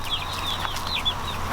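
Nearby backyard chickens, bantams and young birds, cluck and chirp in quick soft overlapping calls over a low steady hum.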